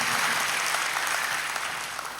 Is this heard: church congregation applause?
yes